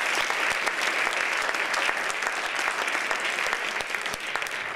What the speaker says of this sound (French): Je vais vous demander de les applaudir maintenant pour leur donner du courage